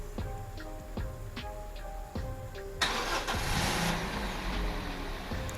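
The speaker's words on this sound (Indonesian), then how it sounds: "untuk mesin udah nyala ya teman-teman" A modified third-generation Toyota Vios Limo taxi engine cranks with a few rhythmic starter turns, then catches and settles into a steady idle rumble.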